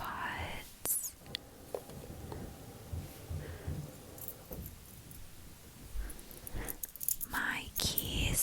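A set of keys pulled from a small bag jangles in soft, brief metallic clinks close to the microphone during whispered ASMR talk.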